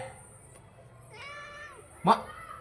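A single short cat meow rises clearly over quiet background, preceded by a faint tonal murmur; close and brief.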